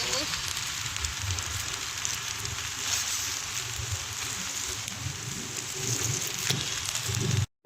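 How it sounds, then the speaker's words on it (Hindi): Dense, steady hiss of heavy rain pouring down without pause, with a low rumble underneath, cutting off abruptly at the end. "इतनी तेज बारिश हो रही है।"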